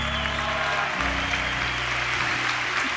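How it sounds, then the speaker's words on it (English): Applause from an audience member at a live motivational talk: a steady, dense patter of clapping over about three seconds, with a low background hum throughout. "some dude was clapping for it"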